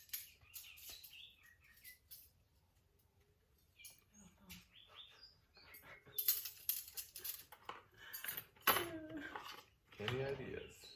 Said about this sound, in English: Gotta put some dishes away.